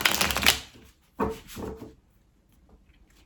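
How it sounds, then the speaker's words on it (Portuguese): Tarot cards are shuffled by hand in a few quick, close riffling bursts, with brief pauses between them and no talking. "Vamos baralhar mais uma vez e vamos ver o que é que vem para nós hoje."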